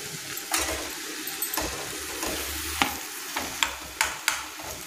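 Paneer is stirred into dry roasted masala in a pan, with close sharp spatula scrapes and knocks repeating irregularly over a low sizzle.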